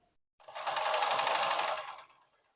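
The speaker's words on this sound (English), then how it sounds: "So we're going to start by doing some straight stitches." A Consew CN2053R industrial sewing machine runs a short burst of straight stitching, a fast, even mechanical chatter that starts abruptly and winds down after about a second and a half, close and alone.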